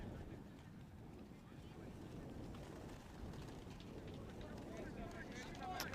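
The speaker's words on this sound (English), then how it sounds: "as the wind starts to pick up again" Wind buffets the microphone at an outdoor cricket ground on the windy northern outskirts of Prague, a faint, steady low rumble that runs throughout with no other clear sound.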